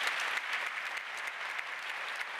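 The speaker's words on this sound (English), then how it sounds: "So for Steven, yes, a round of applause for Janet" A seated audience at a panel discussion gives steady, fairly faint applause with individual claps distinct, continuous and without talk.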